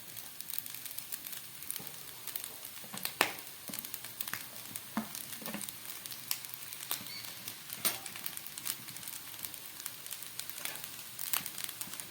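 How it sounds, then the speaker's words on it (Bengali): Fried chicken being added to a pan of restaurant-style mixed fried rice, a faint steady sizzle with light crackling pops and occasional soft stirring scrapes, no talk. "এবার আমি দিয়ে দেব চিকেন, ফ্রাই করা চিকেনটা।"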